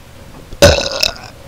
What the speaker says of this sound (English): Ooh, I burped.